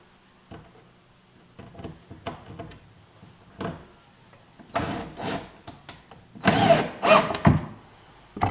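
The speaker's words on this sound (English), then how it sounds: "Then these screws simply go into those pilot holes." Screws are driven into pilot holes in oak nightstands with a power driver, heard as short irregular bursts of whirring and clicking that grow louder toward the end, close by with no speech.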